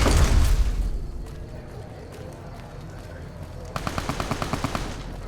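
Gunfire in the video game Fallout: New Vegas, a loud burst at the start that fades, then a rapid series of sharp automatic shots near the end over a steady low rumble.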